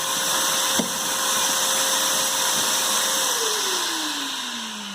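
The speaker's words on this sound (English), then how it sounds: "excuse me, I got a vacuum" A vacuum cleaner runs close by during fret dressing on a Fender Stratocaster, giving a loud, steady whirring whine with a sharp click early on. Near the end the motor winds down, its pitch sliding steadily lower.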